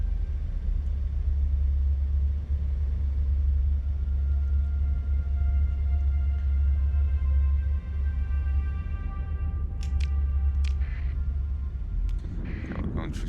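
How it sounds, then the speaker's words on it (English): A hyperspace storm rumbles in the space game Starsector, a deep, steady low drone with faint tonal hum above it, broken near the end by a few sharp crackling bursts. "Okay, we're going through storm territory."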